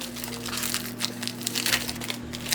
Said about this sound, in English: Let's rip into this and see everything that we got out of this package.